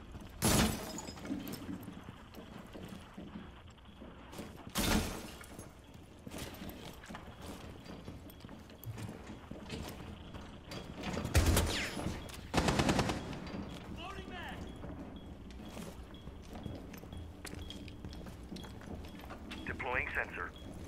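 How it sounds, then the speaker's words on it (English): Gunfire in Rainbow Six Siege sounds as sharp, loud bursts, a few single cracks and a longer rattling volley near the middle, over steady in-game background noise while a player talks. "Is he in a gunfight? Or is he just shooting randomly like a noob?"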